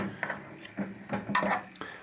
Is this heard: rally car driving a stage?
no